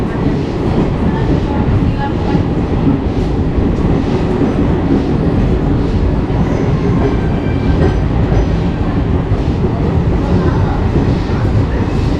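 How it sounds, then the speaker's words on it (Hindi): Shramjeevi Express train departing Ara station, a loud, continuous rumble and rattle of wheels and carriages that holds steady throughout. "तो चलते आपको मैं दिखाता हूँ आरा से अपनी ट्रेन का डिपार्चर।"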